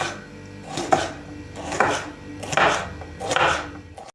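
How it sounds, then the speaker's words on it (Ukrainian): A knife chops bell peppers into strips steadily on a cutting board, with several crisp, evenly spaced strokes close up and no talking. "кілограм болгарського перцю помила, почистила, нарізала на ось такі смужки і нарізаємо соломку"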